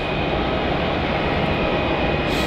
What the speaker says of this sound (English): our next arrival on runway 16 is VA808 arriving in from Sydney